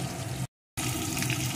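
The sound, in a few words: tangra fish frying in hot mustard oil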